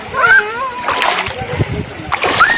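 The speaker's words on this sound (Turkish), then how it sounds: "sabun çayının ortasından yürümeye devam ediyoruz" Feet splash through the shallow water of Sabun Çayı stream, a few loud close sloshes in a broken rhythm, mixed with a voice and other chatter.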